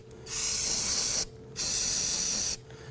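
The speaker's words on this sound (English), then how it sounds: "I'm going to go ahead and take some spray solvent." Two separate bursts of aerosol solvent cleaner sprayed onto a rear trailing arm suspension part of a 2008-2011 Ford Focus, each a steady close hiss lasting about a second, with a short pause between them.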